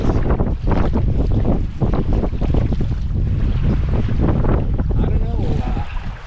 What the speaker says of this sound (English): It's a windier day today than I had any expectation of.